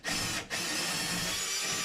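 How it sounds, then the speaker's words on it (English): A power drill pre-drills a hole in drywall with a half-inch bit for an anchor, a short close burst of whirring and grinding with a brief dip near the start. "if you're using the drywall anchor, pre-drill with your ½ inch bit"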